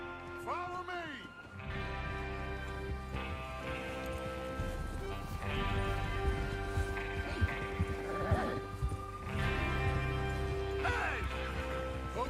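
Horses in Red Dead Redemption 2 hoofing along in a steady clip-clop with an occasional whinny, set over a constant game soundtrack and ambience, with speech woven through the mix.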